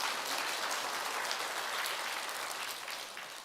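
A church congregation claps together during a Sunday service, a dense steady patter of many hands filling the sanctuary, holding level throughout before easing slightly at the end, with no voices over it.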